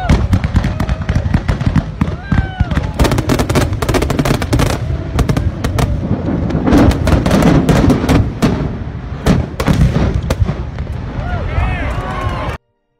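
Fireworks on a trailer hit by a semi-truck beside a road near Hope, British Columbia, go off uncontrolled in a loud, dense barrage of cracks, bangs and whistling shots for over twelve seconds, with voices faintly mixed in.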